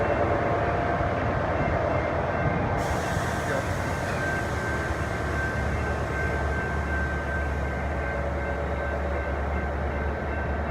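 Siemens-built locomotive pulling away, a steady loud rumble with a continuous high whine running throughout and a rise in hiss partway through, no talk over it.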